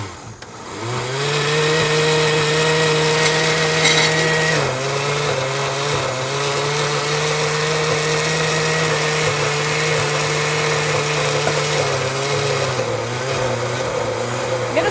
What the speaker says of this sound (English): My blender ain't the best blender.